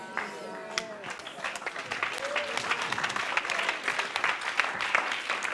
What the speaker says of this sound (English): And those who are not clapping, give me one reason why you are not clapping for Jesus.